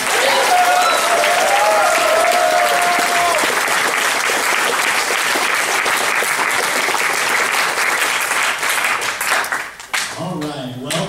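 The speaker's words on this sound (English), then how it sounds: "I want to say a big round of applause for Cora" A convention panel audience at a 2012 fan fair gives Cora loud, sustained applause. The dense clapping is punctuated by a brief cheer, then tapers off near the end as talking and mic handling come in.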